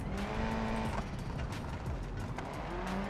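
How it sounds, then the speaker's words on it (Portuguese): A race car engine in BeamNG.drive multiplayer revs and shifts close and loud, its pitch sweeping up and falling back across a few seconds, with some tire noise mixed in. "Ó, o barulho do motor do teu carro."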